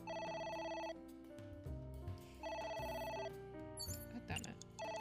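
A telephone rings in the video game AI: The Somnium Files, repeated electronic ring bursts sounding over game music, with brief interruptions between rings.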